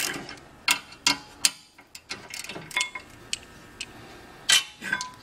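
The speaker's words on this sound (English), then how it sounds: "I'm going to use a 16mm socket and I'm going to remove the bracket from the vehicle" A 16mm socket on a ratchet loosens and removes a brake caliper bracket, giving a run of close, crisp clicks and metallic clinks in irregular bursts, with no talking.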